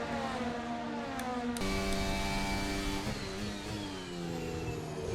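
Formula 1 car engine in a racing video game at the Miami Grand Prix, a loud, steady high-pitched whine that climbs through the revs with sharp gear-shift drops and shifting pitch, continuous and close throughout.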